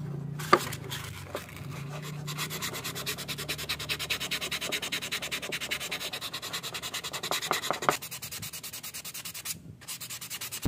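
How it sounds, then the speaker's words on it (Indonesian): Rapid rhythmic rasping of sandpaper rubbing on scrap wood by hand, a steady back-and-forth scrubbing close by, pausing briefly near the end. "setelah itu kita amplas bagian samping-sampingnya ya"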